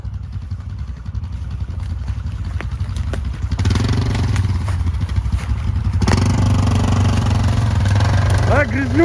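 ATV quad bike engines run steadily and rev in mud and river water, a loud continuous drone that swells midway, with people talking over it.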